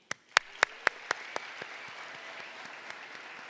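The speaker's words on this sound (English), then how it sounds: "Let's get one more round of applause for all our guests here this evening." An audience at an FFA state leadership conference session applauds: a few sharp, distinct claps up close at the start, then a dense, softer wash of crowd clapping that fades.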